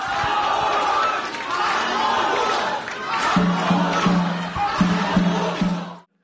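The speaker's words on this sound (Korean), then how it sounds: "지지자들의 환호를 받으며 입장합니다." Supporters cheer and shout as a party leader enters a political rally in Daegu, a loud, dense crowd roar punctuated by rhythmic chanting bursts toward the end.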